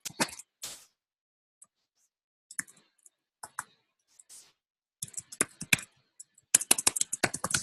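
Computer keyboard clatter as someone writes code, in scattered bursts of key clicks with long quiet gaps, then a dense fast run of typing at the end, close and crisp with no voices.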